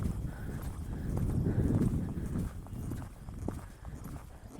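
A horse lopes on a loose rein at a steady, consistent pace, its hoofbeats a muffled rhythmic drumming on soft ground, fairly close and continuous.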